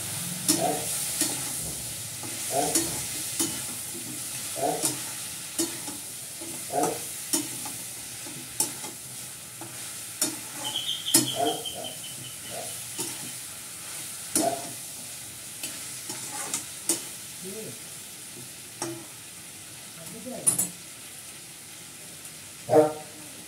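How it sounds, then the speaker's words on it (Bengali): Spices cooked down with Kashmiri chili powder sizzle gently in a pan, with repeated scraping stirs of a spatula at an uneven rhythm over a soft, steady frying hiss. "কাশ্মীরি লঙ্কার গুঁড়ো দিয়ে কষাচ্ছি।"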